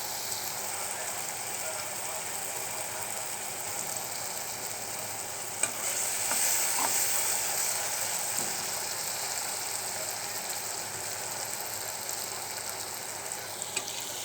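Kechki fish frying in spice masala in a pan, a steady hissing sizzle with soft stirring scrapes throughout, slightly brighter and busier midway, with no talking.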